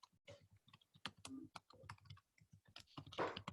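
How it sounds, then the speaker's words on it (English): Close, quiet keyboard typing of irregular clicks and taps on a computer keyboard during an online webinar, mixed with some soft talking. "I'm typing it."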